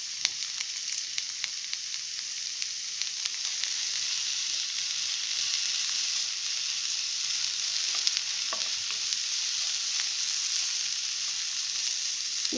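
Ingredients with curry leaves sizzle and fry steadily in a pan for a chutney, with faint stirring scrapes now and then, close and continuous with no talk.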